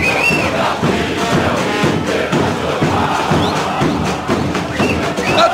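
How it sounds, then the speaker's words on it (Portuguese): Stadium crowd roaring and chanting in the football video game PES 2010 during an Internacional versus Bahia match, a loud, dense, continuous wall of cheering with scattered shouts and whistles. "A torcida vibra."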